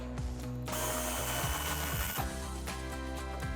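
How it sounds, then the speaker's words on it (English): A power tool, likely an impact driver with an 18mm socket, spins a nut off the stud of a quad shock on a 1994-2004 Mustang GT, whirring in short bursts with brief pauses between, up close. "I have an 18mm socket. I'm just gonna remove that nut and take the quad shock off of that stud."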